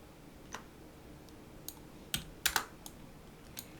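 Computer keyboard keys pressed for Photoshop shortcuts such as Ctrl+T and Alt: about seven sparse, quiet clicks, with a quick cluster near the middle and no voices.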